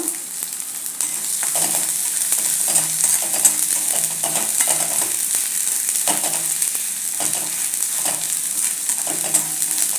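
Spices, onion and tomato sizzle in a pan, a bright steady frying hiss broken by regular scraping stirs of a spatula, close and continuous.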